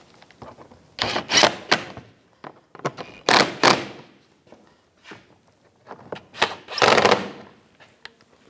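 A power tool snugs down the CV axle bolts on a 2010–2014 Volkswagen GTI, with three loud, close bursts of rapid impact rattling separated by brief pauses and light clanks.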